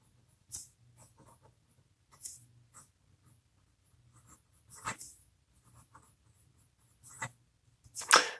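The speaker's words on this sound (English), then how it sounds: "So as you can see, the pen, it writes well." A Delike Alpha resin fountain pen nib scratches across paper in short, quiet bursts of strokes separated by brief pauses, close up and soft, with no talking.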